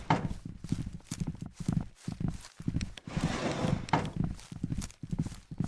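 Horses in the video game Mulberry County clip-clop in a steady rhythm of hoof thuds, moderately loud and continuous, with a burst of rustling noise in the middle.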